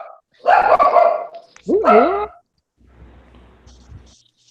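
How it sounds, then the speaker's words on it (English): A dog barks loudly twice in close succession, sharp tonal yelps with a rising, wavering second bark, followed by quieter rustling and faint sounds as the room settles. "That's my dog"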